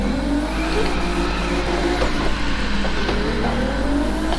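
Nissan R34 engine in The Crew 2 revs hard and steadily while drifting, a loud continuous mid-pitched drone with a rising whine and faint tire noise throughout.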